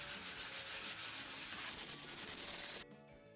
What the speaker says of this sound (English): So I'm just lightly sanding.